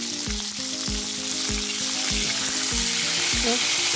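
Chicken pieces fry loudly in a pan while being turned over, a strong continuous sizzle punctuated by repeated low thuds and scrapes of the flipping.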